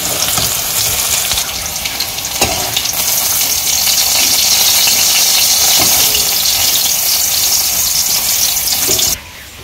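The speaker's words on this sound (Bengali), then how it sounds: "তারপরে থারকুন পাতাগুলো ভেজে নেব" Thankuni leaves frying in a pan after garlic and green chillies, a loud continuous sizzle with occasional stirring scrapes, cutting off abruptly just before the end.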